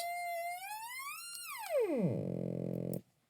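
A bright, raspy sawtooth synth tone sounds alone, wavers briefly, sweeps sharply downward, then holds a low buzzing pitch before ending abruptly.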